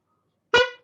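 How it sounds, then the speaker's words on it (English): A single short car horn honk sounds, clear and fairly close, ringing out alone for under half a second against silence. "and I get honked."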